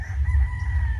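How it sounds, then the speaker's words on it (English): A rooster crowing nearby on Guimaras Island in the Philippines, one loud, drawn-out crow filling the moment. "There's plenty of roosters back there."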